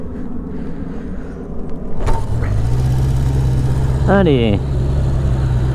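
A Honda CB750 Four motorcycle is kick-started, catching after a thud and settling into a loud, steady low idle, with a rising mechanical whine and a brief spoken word over it.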